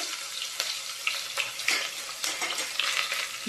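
Whole cinnamon, cardamom, cloves and bay leaf fry with onion in a pot for chicken dum biryani, giving a moderate crackling sizzle with intermittent scraping and clinking stirs.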